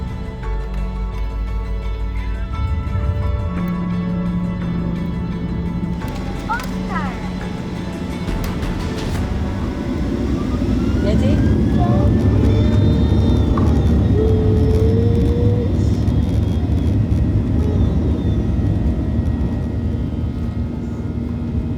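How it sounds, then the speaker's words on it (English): Jet airliner taxiing out from Edinburgh toward the runway, a steady engine whine and rumble inside the cabin that swells louder partway through as power builds, with faint talk and tones overhead. "pushed back to taxi our way out to the runway for takeoff"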